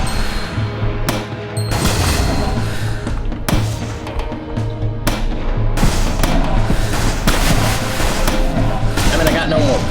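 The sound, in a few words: shooting gunfire in the video game Dark Dreams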